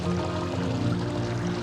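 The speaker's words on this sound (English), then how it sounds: "In addition to the water just dripping off of the bowls, we've actually put some nice bubblers, into the water, which really give us some nice sound" Water bubbling and trickling steadily from bubblers and fountain bowls in a backyard garden, a continuous close, even splashing wash with no pauses.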